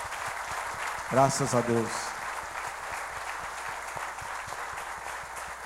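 Church congregation applauding during a conference service, a soft steady patter of clapping running throughout while a voice speaks briefly over it near the start.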